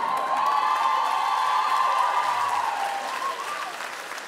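A comedy-show audience claps and cheers in a sustained, loud burst of applause that dense with overlapping hands, fading slightly toward the end.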